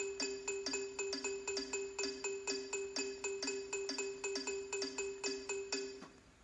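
Bright, bell-like synthetic tones from a sonified spirograph ping in interlocking polyrhythmic patterns, dozens of short struck notes over a sustained drone, steady and clear, fading out at the end.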